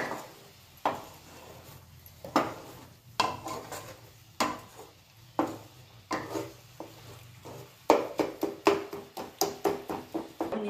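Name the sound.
stirring ambadi flower dish in pan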